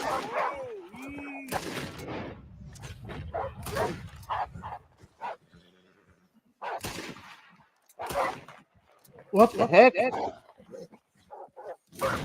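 A dog in a video game barks and yips in scattered short bursts among game noises, with someone talking intermittently over them.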